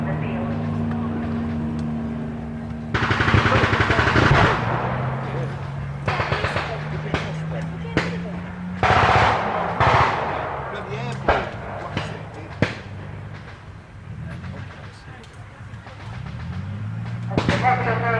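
Artillery booms and gunfire ring out at a military reenactment, several heavy blasts and sharp reports scattered over an engine rumble, with a commentator speaking throughout.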